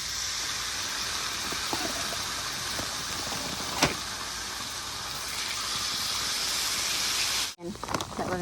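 A steak sizzles on a hibachi griddle, a steady, close hiss that runs unbroken before a sharp clunk near the end.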